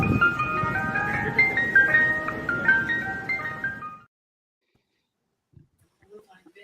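An ice cream truck plays its tinkling melodic jingle for about four seconds, mixed with people talking nearby, then cuts off into near silence with a few faint sounds.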